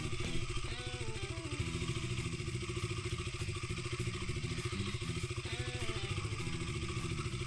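A motorcycle engine idles steadily as it warms up after starting, a continuous mid-pitched rumble with a faint mechanical clatter, close and fairly loud, with no talk.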